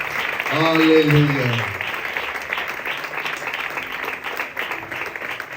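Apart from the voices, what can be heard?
congregation applause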